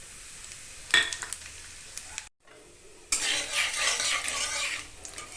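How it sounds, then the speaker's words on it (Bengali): Black cumin, radhuni and dried chilli hit hot oil with a sharp sizzle, followed by a brief silence and then a louder, sustained frying crackle under scraping spoon-on-pan stirring. "তেল গরম হয়ে গেছে, এবারে দিয়ে দেব কালো জিরে,"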